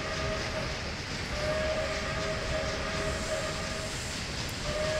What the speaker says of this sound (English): Let's honk the horn a little.